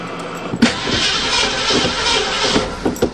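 A 1935 Mercedes engine, stored for seven years, cranks and catches, running roughly and loudly for about two seconds between short mechanical knocks.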